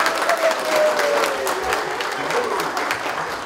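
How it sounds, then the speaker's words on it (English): A crowd claps steadily at an 18th birthday party, a dense patter of hands that stays loud across the moment with a faint voice underneath. "A loud round of applause for everyone."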